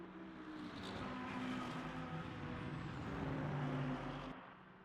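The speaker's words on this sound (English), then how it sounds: "Another Aston Martin attacking the BMW now." Aston Martin and BMW GT3 race cars at Le Mans in the Le Mans Ultimate racing game: a fairly faint, continuous engine drone that swells as the cars close in, then cuts off sharply near the end.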